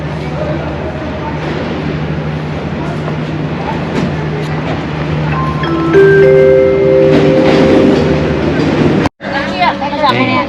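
Busy station ambience at Vinh station in Vietnam: a train rumbles steadily while voices murmur around, with tonal chimes or announcement beeps and a sudden brief cutout near the end.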